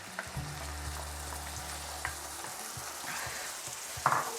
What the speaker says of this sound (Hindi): अब इसको अच्छे से भूनूंगी।